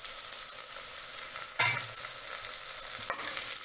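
Green garlic and green chilies stirred into fenugreek khichdi in a pan, with a soft steady sizzle and a couple of brief scraping stirs, nearby and alone without talk.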